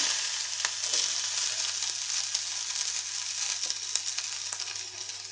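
Onion fries in hot coconut oil for a Goan prawn curry, producing a steady close sizzle with scattered small pops and crackles throughout.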